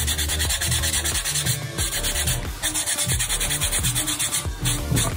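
Abrasive sanding on the edge of a handmade leather choker, a loud, close, rhythmic rubbing in quick back-and-forth strokes with brief pauses, and no voices.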